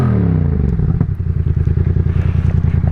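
A Yamaha MT-07 motorcycle's 270-degree crank engine idles loudly and close, with an even, lumpy throb that settles into a steady rhythm after a brief rev.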